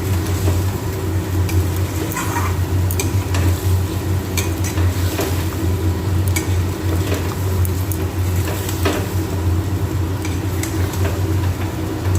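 Potato curry (aloo dum) being sautéed and stirred in a pan, a steady low sizzle running throughout with scattered scraping and clinking of a spatula against the pan, close and continuous with no talking.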